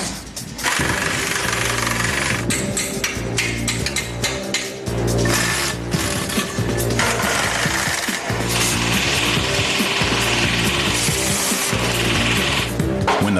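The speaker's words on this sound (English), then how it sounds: "When the power wrench doesn't do the trick" A power wrench rattles in rapid hammering bursts against corroded bolts on a Volvo truck cab, loud and close, with short pauses between runs and heavy mechanical clatter underneath.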